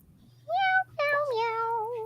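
A cat meows twice up close, a short rising mew followed by a longer drawn-out one, over a steady low hum indoors.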